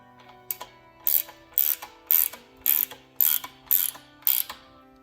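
Ratchet tightening a bolt on a 1955 VW Beetle split-case gearbox during restoration: eight crisp, evenly spaced bursts of rapid clicking, close and clear, with quiet gaps between strokes.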